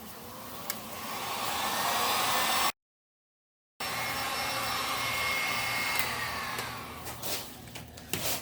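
A heat gun blows steadily close by while heating a custom floor wire cover board for a Carolina Skiff boat; its even whooshing hiss cuts out briefly, then resumes before fading at the end.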